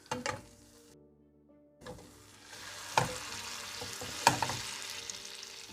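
Hot dog sausages frying in a pan, a steady low sizzle broken by a few sharp pops and spits, with brief stirring or scraping clatter, close by and no talk.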